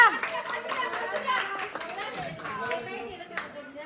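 Children and adults clapping hands at a Marathi family celebration, an irregular patter of claps mixed with overlapping voices and chatter.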